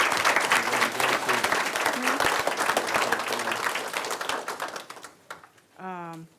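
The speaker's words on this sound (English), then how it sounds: "Let's give all of our recipients another round of applause," A crowd at a school board meeting applauds award recipients with dense, steady clapping that fades out toward the end, followed by a voice beginning to speak.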